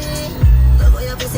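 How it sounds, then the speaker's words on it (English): A vehicle passes close by on a London street amid heavy traffic, with two loud low rumbling swells against a steady background hum. "So much traffic."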